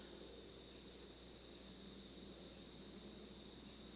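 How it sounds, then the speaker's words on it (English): Crickets chirp in a steady, unbroken high trill during a quiet meditation retreat talk, faint and continuous throughout, with no voices. "songs of birds and crickets"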